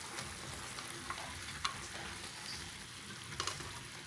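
Bok choy in oyster sauce bubbles and sizzles softly in a frying pan, with a few scattered scraping stir strokes over a steady low hiss, quiet and close without speech.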